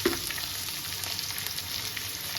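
Potatoes, eggplant and green chillies fry in hot oil in a pan, giving a steady, close sizzle with faint crackling and no talk.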